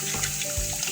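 Water is poured over a dirty toy train from an STB Railway set to rinse it clean, giving a steady, close splashing and trickling wash with no pauses.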